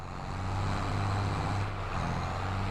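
A John Deere tractor engine in Farming Simulator 22 drones at a steady, loud, deep pitch, holding an even rumble for the whole stretch with no break.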